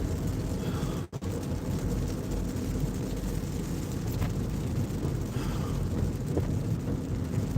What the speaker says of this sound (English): Man, I just wish this rain would just go away.